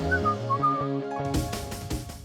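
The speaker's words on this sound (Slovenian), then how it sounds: "nadaljeval z vožnjo ter si ob tem veselo žvižgal" A man whistles a cheerful, melodic tune while driving, the notes clear and close, with a few soft bumps and clicks toward the end.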